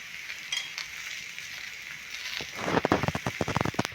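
Masala chapati cooks on a pan with oil, a soft hiss at first that swells into a louder, close crackling sizzle of sharp pops over the final second or so.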